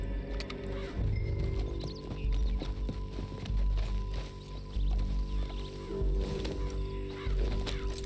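Steady clip-clop of horse hooves on a dirt trail in Red Dead Redemption 2, a fast rhythmic gallop with game-like clatter and faint ambient sounds, loud and close throughout.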